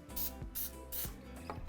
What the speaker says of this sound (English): we're going to spray them with non-stick cooking spray